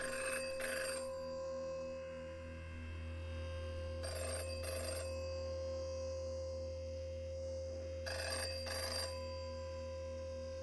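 A telephone rings in the video game Virtual Virtual Reality, three double bursts of ringing spaced about four seconds apart over a steady low electronic hum, with no talking.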